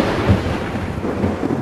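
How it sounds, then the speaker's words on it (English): A thunderstorm over Kuala Lumpur rumbles with deep, rolling thunder beneath a steady wash of heavy rain, loud and continuous with no voices. "Thunderstorm comes,"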